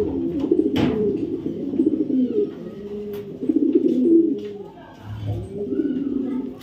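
Racing pigeons cooing close by in a loft, with soft repeated throaty rolling coos in short bursts and a faint flutter or handling noise between calls.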